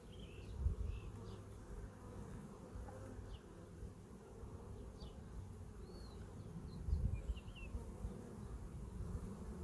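A honey bee colony with laying workers hums in a steady, faint buzz close by, with a few individual bees whining past.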